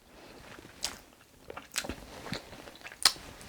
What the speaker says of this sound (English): The crunch of the onions.